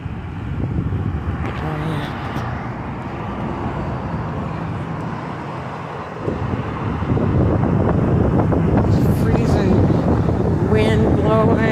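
Gusty wind buffets the microphone while someone walks outdoors on a blustery day, a continuous low rumbling roar that strengthens and grows rougher in the second half, with no clear speech.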